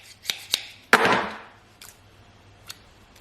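Scissors gummed with tape glue snipping through adhesive tape, a few sharp separate cuts followed by one louder, drawn-out rasping cut, then quieter scattered clicks, close to the microphone.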